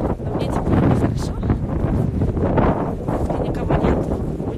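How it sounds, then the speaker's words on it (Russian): Wind blowing hard into a microphone outdoors, a steady broadband rumble and buffeting that persists loudly throughout with gusty swells. "Стас, ветер здесь."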